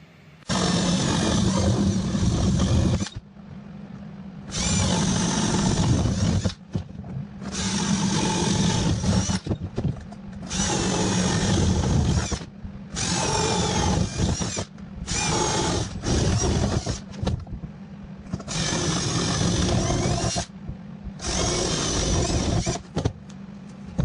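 A small jigsaw cuts wood for a homemade Christmas tree, a loud buzzing roar in repeated bursts of a few seconds each, separated by short pauses, close by with no talk.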